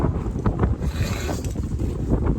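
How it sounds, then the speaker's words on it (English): Wind gusts across the microphone outdoors in a driveway, a close buffeting roar with uneven surges and bursts of rumble. "Man, the wind is blowing"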